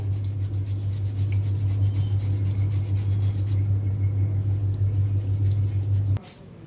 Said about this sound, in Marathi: आता किसून घ्यायचे इथे। तर सगळे किसून घेते।